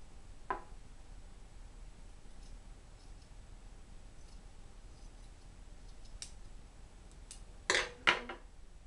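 Scissors snipping through a sock while a sock monkey is sewn, a faint early click and then two sharp close cuts near the end over a quiet background.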